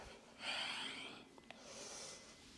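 A person exhales audibly during a breathing exercise, two soft breathy pushes of air, close and faint, with a tiny click between them.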